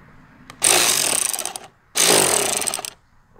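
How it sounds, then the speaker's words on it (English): AC Delco electric ratchet spinning in two short bursts of whirring, clattering mechanical buzz, close and loud, separated by a brief pause, in a garage during a Nissan Altima 2.5L brake job. "It's a brand new tool. AC Ducco, electric ratchet."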